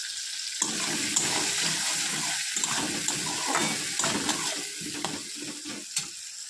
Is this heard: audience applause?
no